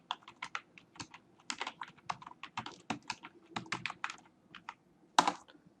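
Rapid keystrokes on a computer keyboard while entering a web search, a steady run of close, crisp clicks with one sharper key strike near the end, no talking.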